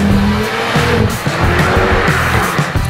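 A 2018 VW Polo 6 GTI driven hard on a racetrack, loud engine drone with shifting revs and tires squealing through corners, close and continuous throughout.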